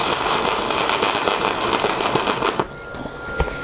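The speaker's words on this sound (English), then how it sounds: "We'll take the grinder to that." An angle grinder works a blob of weld off a steel window-bar frame, a loud, steady, harsh whine with gritty texture that drops away near the end, leaving a few faint clinks.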